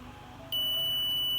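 A shorted pin on an Asus GTX 950 graphics card triggers a multimeter's continuity beep: one steady, high electronic tone starting abruptly and holding, over faint background hum.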